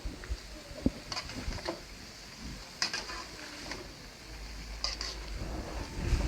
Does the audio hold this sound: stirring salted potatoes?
yes